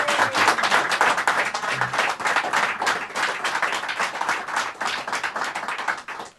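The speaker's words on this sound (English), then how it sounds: "could you please give him a supporting, life-enhancing cheer to Stewart Kirkpatrick of the Daily Record." An audience applauds at a live referendum broadcast, dense continuous clapping that swells loud and then thins slightly toward the end, with no voices over it.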